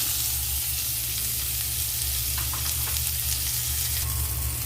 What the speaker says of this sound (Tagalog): Dahil sobrang init ng ating mantika, so mabilis siya na golden brown. So lagyan na natin ang sibuyas.